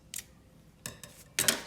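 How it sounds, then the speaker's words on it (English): Scissors snip the extra thread ends off a piece of flower jewellery: three short, crisp metallic cuts spaced out, close and fairly quiet, with no talking. "you then just cut off the extra thread bits"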